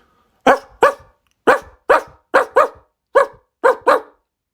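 A dog barks nine times in sharp, loud, close bursts, mostly in pairs with short gaps, against an otherwise silent background.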